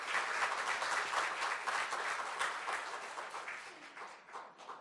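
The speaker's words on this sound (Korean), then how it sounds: "다 같이 박수해 주시겠습니다." Church congregation applauding at a pastor's installation and elders' retirement thanksgiving service, a dense, sustained roar of many hands that holds steady, then slowly fades toward the end.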